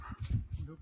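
A dog gives a short, close yip or bark in India's Nagaland State, lasting under a second and mixed with nearby human voices.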